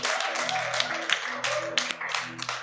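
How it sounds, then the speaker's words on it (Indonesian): A congregation claps during a Sunday church service, with sharp irregular hand claps standing out over a steady sung or droning background, fairly close and lively, with voices present underneath. "Boleh tepuk tangan dulu ya."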